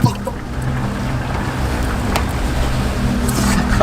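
A motorboat's engine hums loudly as it speeds across the sea, a continuous low drone with wind and water rush layered on top.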